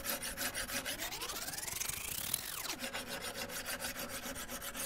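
An axe edge is ground on a coarse sharpening stone to remove a large nick, producing close, rhythmic back-and-forth scraping strokes in quick succession, alone without speech.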